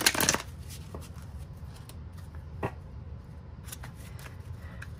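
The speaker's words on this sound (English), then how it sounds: "that was the last deck I needed to shuffle" A deck of tarot cards is shuffled by hand, a burst of crisp riffling followed by scattered soft flicks and taps, quiet and close with no talking.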